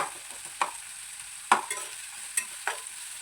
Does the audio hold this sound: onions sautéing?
yes